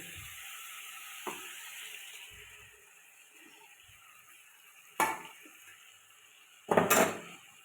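Small fish are dropped into a hot pan of oil, setting off a steady frying hiss with a few sharp clatters and bursts of louder spattering as pieces go in.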